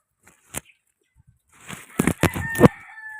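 Chickens cluck and a rooster crows nearby as the chickens are fed, with a few sharp isolated calls early on followed by a louder burst of clucking and crowing.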